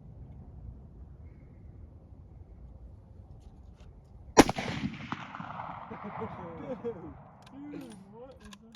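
A shot is fired at a pumpkin, giving a single sharp crack partway through, then a burst of crackling debris and scattered rattles as it explodes, set against quiet background noise.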